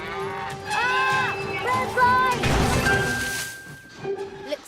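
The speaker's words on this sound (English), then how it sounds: "somebody left the gate open and the cows wandered onto the tracks" Cartoon cows stray onto railway tracks, giving several loud, drawn-out moos close by, with a thud and a long steady tone partway through.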